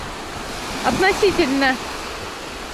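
Sea waves wash onto a beach in Turkey, a broad steady rush of surf with wind noise, while someone briefly speaks over it.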